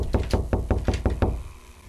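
Seven quick, evenly spaced knocks on a door in the horror game Locked Up, loud and close, stopping abruptly and trailing off into a faint room tone.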